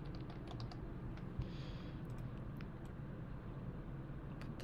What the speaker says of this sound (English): hit return or enter on my keyboard